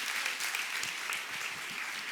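Steady crowd applause at a women's church retreat, dense and continuous clapping from an audience for the whole stretch, fairly loud and even.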